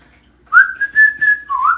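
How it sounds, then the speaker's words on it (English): A person whistles a short tune of sustained tones, starting with a rising note, holding a steady pitch and ending on a lower sliding note. Loud, close and alone, with no talking. "Oh, whistle."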